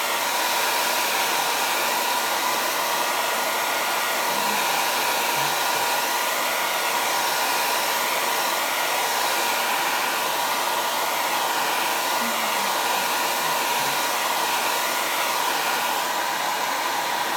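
A hair dryer blows continuously and loudly at close range for the whole stretch, drying chalk paste on a T-shirt, with no speech.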